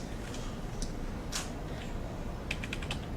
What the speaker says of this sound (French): Attends, je tape ici.